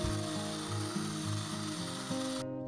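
An electric mixer whirs steadily while beating eggs with sugar and a pinch of salt into a stiff foam for carrot cake, a continuous mechanical hum with a faintly pulsing, ratcheting rhythm that cuts off abruptly at the end.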